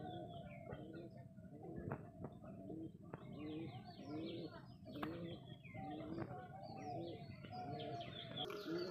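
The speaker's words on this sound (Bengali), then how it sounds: "আর প্রচণ্ড ভয় খেয়ে আছে পায়রাগুলো" Frightened pigeons in a loft coo and flutter continuously at close range, with soft low calls overlapping throughout and a person talking faintly in the background.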